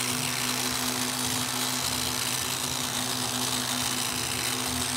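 A sanding machine wet sands car paint to remove orange peel, giving off a constant droning hum with a low, steady tonal buzz beneath a broad hiss. It stays even and close throughout, with no talking.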